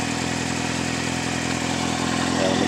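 A 2000 Suzuki GSX-R motorcycle with a Yoshimura exhaust idles close by, a loud, steady, even engine rumble with no revving and no voices.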